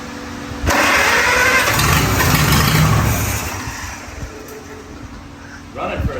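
An antique 1945 Farmall tractor engine cranks and catches, roaring loudly up close for a few seconds before dying back down, then a brief second burst of engine noise at the end; voices can be heard around it.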